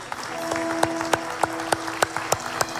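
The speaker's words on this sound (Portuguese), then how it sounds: "Uma salva de palmas para Jesus." Church congregation clapping for Jesus, a steady rhythmic beat of sharp claps over sustained musical tones, near and fairly even in loudness throughout.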